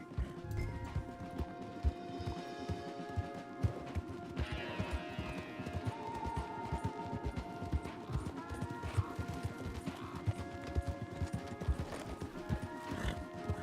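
Rapid hoofbeats of several horses galloping close by in the video game Red Dead Redemption 2, a steady pounding clatter running the whole way, with occasional whinnies.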